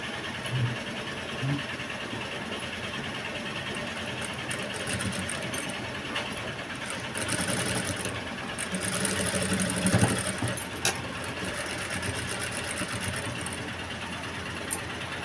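A sewing machine runs steadily while stitching blouse piping, a continuous whirring hum with slight swells in loudness midway and no talk.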